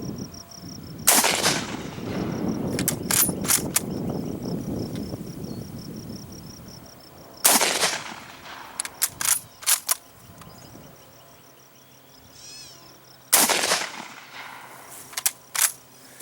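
Three sharp, loud reports from a Mosin-Nagant 91/30 rifle in 7.62x54R fired at an AR500 steel body armor plate, each a broadband crack followed by short ringing echoes, spaced several seconds apart outdoors with insects chirping steadily between shots.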